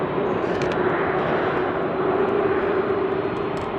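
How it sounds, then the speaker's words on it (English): An Airbus A330 jet departs Sydney Airport at night, a steady, loud, broadband engine roar with a sustained hum, constant and without speech. "glad you enjoyed the A330 departing"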